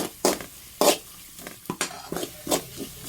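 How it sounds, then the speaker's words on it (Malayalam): Chili powder masala being sautéed in a pan while cooking fish, with a spoon scraping and stirring in repeated loud strokes over a soft sizzle, close by and without talk. "മുളക് പൊടി എല്ലാം ഒന്ന് നല്ലതുപോലെ ഒന്ന് മൂപ്പിച്ചെടുക്കാം."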